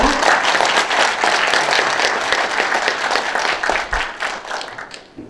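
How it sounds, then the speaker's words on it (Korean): Seminar audience applauding to welcome a speaker, dense steady clapping that tapers off toward the end. "박수로 환영해 주시기 바랍니다."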